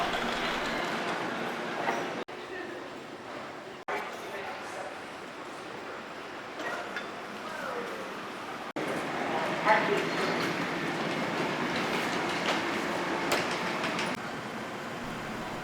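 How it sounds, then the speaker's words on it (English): Automated airport tram at Pittsburgh airport, running between the security terminal and the main terminal: a steady rolling rumble with occasional clacks and brief dropouts, continuous throughout the ride. "you will be able to take an automated tram from the security terminal to the main"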